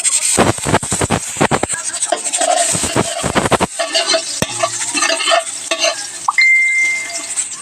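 Garlic and ginger sautéing in cooking oil, a close burst of rapid scraping and stirring clatter followed by a steady sizzle with occasional clinks of utensils against the pan, no speech.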